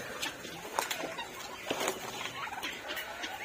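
Turkeys gobble in a farmyard pen before being let out, several short bursts scattered over a soft background, fairly close with no talking.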